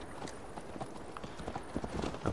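Horse hooves clip-clopping at a steady riding pace in Assassin's Creed Valhalla, rhythmic and fairly close over game ambience and faint background sound.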